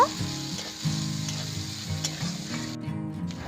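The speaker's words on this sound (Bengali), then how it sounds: "এবার নেড়ে নিয়ে পেঁয়াজ আর শুকনো লঙ্কা হালকা করে ভেজে নেব" Onion and three dried red chillies are stirred while frying in oil, giving a continuous close sizzle with faint crackles, partly under steady background music.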